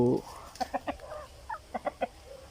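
Free-range village chickens cluck in a pen on a rural Thai farm, giving a run of short, moderately close clucks after a brief voice at the start.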